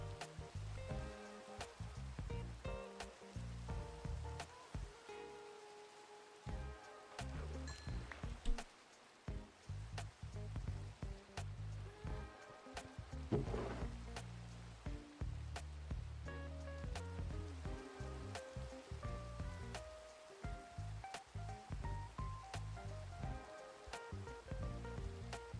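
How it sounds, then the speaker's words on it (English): Rain falls steadily in Minecraft while fishing, a dense continuous patter running the whole stretch, mixed with game music notes and occasional splashes. "We're fishing in the rain now."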